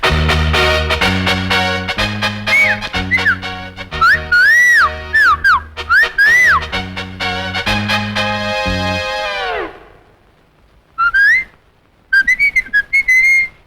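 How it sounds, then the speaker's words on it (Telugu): A person whistles a wavering melody over a rhythmic music backing in a Telugu comedy-drama film. The music cuts off, then a few more whistled phrases follow alone, loud and close. "ఇంకా ఎందుకు సార్ ఈ విజిల్స్"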